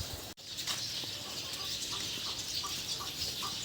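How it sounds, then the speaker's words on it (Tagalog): Chickens clucking at a Philippine poultry farm, scattered short calls repeating over a steady bright rustle of many birds, with a brief dropout near the start. "Meron po silang mga poultry na ito po. Mga manok."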